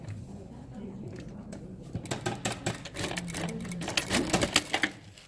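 A home sewing machine stitches the outer layer of a handmade vest, starting after a quiet stretch with a rapid mechanical rattle that speeds up and slows in short runs, close by with faint background sounds.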